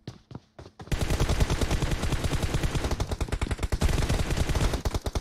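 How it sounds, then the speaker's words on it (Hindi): Gunshots ring out in a team deathmatch shooter video game, beginning with a few isolated shots and then breaking into a loud, dense, continuous automatic volley that lasts to the end. "बहुत बढ़िया शॉट फ्रॉम जिंदल"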